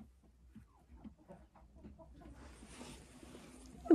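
Laying hens cluck softly and intermittently in a coop, faint and close, with rustling and a rising hiss of movement toward the end.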